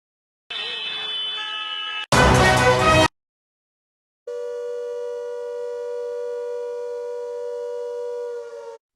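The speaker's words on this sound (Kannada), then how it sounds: "ಬೆಂಗಳೂರಿನಲ್ಲಿ ಮೊಳಗಿದ ಸೈರನ್." A civil defense siren sounds during a drill at Halasuru, Bengaluru, a steady loud wailing tone held for several seconds after a brief burst of broadband noise, with a short gap of silence in between.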